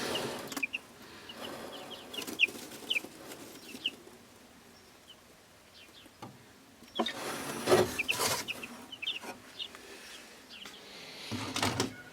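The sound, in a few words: chickens clucking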